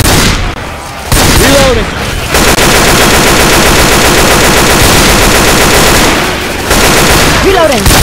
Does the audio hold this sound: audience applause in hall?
no